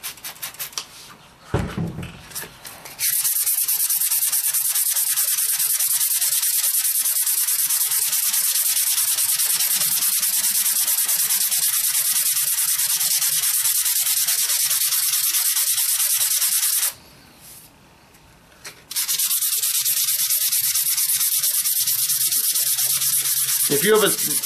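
Abrasive grit sanding a knife handle during contouring, a steady close scratchy rasp that runs almost continuously, broken by a short pause near the start and another brief gap late on.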